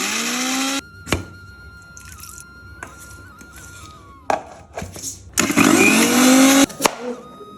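A mixer grinder whirs loudly in bursts as it grinds garlic, ginger and three green chillies, with short pauses, clunks and handling noises between the runs.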